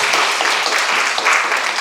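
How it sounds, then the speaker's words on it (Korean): Audience applause at a citizens' town-hall dialogue in Saerom-dong, Sejong City, a brief steady patter of many hands clapping, loud and close, no speech over it. "박수 한번 쳐주세요."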